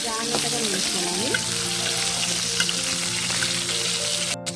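Freshly washed vegetables fry in hot oil in a village kitchen, a continuous close sizzle with spattering from leftover water, and a voice briefly heard near the start.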